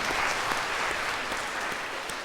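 A church congregation claps together at a New Year Sunday service, a dense, continuous round of applause that stays loud and even throughout.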